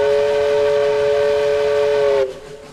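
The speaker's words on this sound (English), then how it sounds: "he blew his own whistle" A steam locomotive whistle blows one long, loud, steady blast lasting about two seconds, then cuts off sharply, leaving a quieter rumble.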